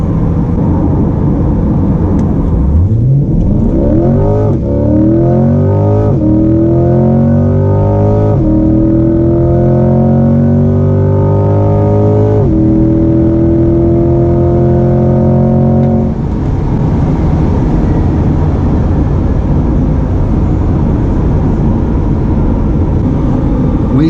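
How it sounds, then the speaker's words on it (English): A mid-engine Chevrolet C8 Corvette accelerating hard at night on a quarter-mile run, its loud, close engine note climbing steeply through several gear shifts before settling into a steady roar. "So we shall see what this car was capable of doing with no tire spin at all."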